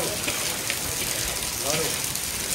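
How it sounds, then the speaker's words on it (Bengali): Heavy rain in Vrindavan pours down in a steady, dense hiss close by, with faint scattered tones under the downpour and no break in the sound. "তো বৃষ্টি হয়ে যাচ্ছে, বৃষ্টি হওয়ার থামার কোনো নাম নেই।"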